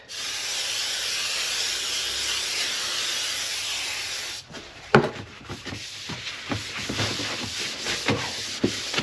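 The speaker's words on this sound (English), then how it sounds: "I'm going to wipe it with the contact cleaner" A helmet gets a spray of contact cleaner, a loud steady hiss lasting several seconds, then a cloth rubs and wipes across its surface in quick, uneven scrubbing strokes up close.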